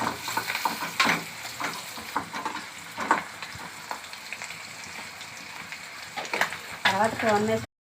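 Small fish frying in oil, with a steady sizzle and spatula stirring clicks heard close, under a voice talking intermittently.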